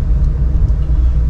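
A car engine rumbles close and loud with a steady low drone while parking among other cars at a campsite near Pico do Olho D'Água.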